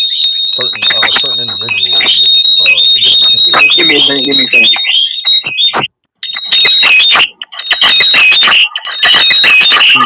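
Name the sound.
fire alarm chirping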